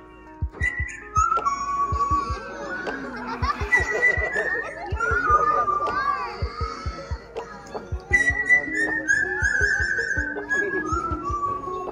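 A bird whistling at a live animal show at an African lion safari park: bright sliding whistled phrases repeated in bursts over a busy outdoor background with crowd noise and voices.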